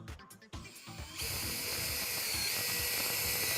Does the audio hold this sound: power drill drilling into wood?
yes